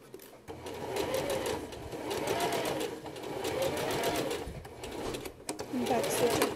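A sewing machine runs in steady close bursts stitching a pajama pants seam from a Simplicity pattern, with brief pauses between runs and a quick backstitch rattle near the end.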